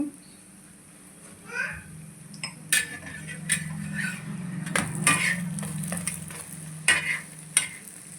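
Bobbattlu flatbread is flipped and roasted with ghee on a pan, giving a low sizzle under scattered spatula scrapes and clinks against the pan, with a few faint voices.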